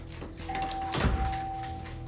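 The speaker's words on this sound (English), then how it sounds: "the doorbell suddenly begins to ring for no reason" A doorbell inside a house rings suddenly, a steady sustained electronic tone running through most of the moment at moderate loudness, with a dog nearby and household background noise.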